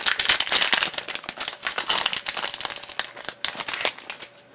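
Plastic wrapping on Yu-Gi-Oh Premium Gold card packs crinkling and crackling continuously up close as it is twisted and torn at, loud and dense with no talking.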